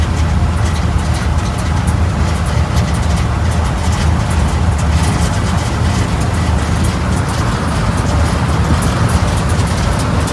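An old Ford F100 pickup truck cruising on a road, a loud, unbroken rumble of engine and road noise heard from inside the cab with no talking.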